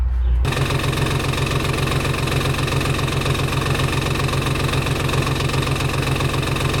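A jetboat engine cranks over with its spark plugs removed, a steady, loud, even mechanical churning with a rapid rhythmic pulse that runs unbroken from a brief quiet start to the end.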